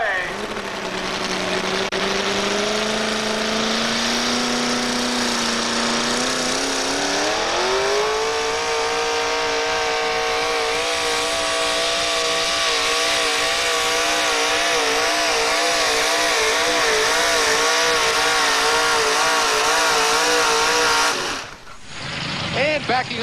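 A 1986 Chevrolet pulling truck with a 557 engine revs loud and close, its roar climbing in pitch and then holding a steady, wavering high rev before cutting off abruptly near the end.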